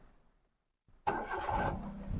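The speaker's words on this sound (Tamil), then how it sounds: "ஸோ நான் இப்போ வண்டி ஸ்டார்ட் பண்ணுறேன்." Maruti Alto 800 LXI petrol car engine starting: after a quiet pause, a single short crank catches and settles straight into a smooth, faint idle, close by with no talk.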